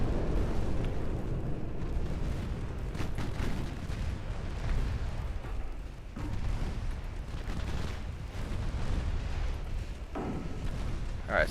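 Torpedo hits and naval gunfire on a warship in Ultimate Admiral Dreadnoughts, a dense, continuous rumble of deep booms and explosions that swells and dips, with no talking.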